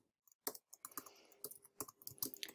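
Quick bursts of close computer keyboard typing, crisp clicking keystrokes in uneven runs and pauses, heard alone with no talk.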